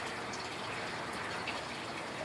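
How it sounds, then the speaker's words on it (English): Water trickles from drippers into the tops of backyard aquaponic grow towers, a steady, continuous splashing flow heard close up with no talk over it. "I have the drippers. Drippity drip."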